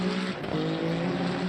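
Race car engine from the Le Mans Ultimate sim, a loud, continuous high-revving drone whose pitch dips briefly and recovers, heard close with no talking.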